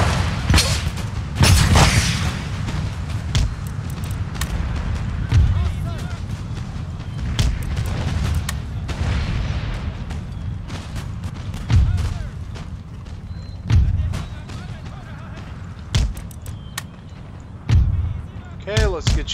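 Mortar fire in an Empire: Total War battle lands as repeated deep booms and sharp cracks at irregular intervals, some close and loud, with a steady battle din and someone talking underneath.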